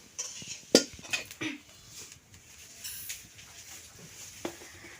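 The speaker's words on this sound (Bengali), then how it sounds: "কড়াইটা তুলে দিব।" A kadai (wok) is set on the stove in a home kitchen, giving one sharp metallic clank followed by a few softer, faint clinks and taps against low background noise.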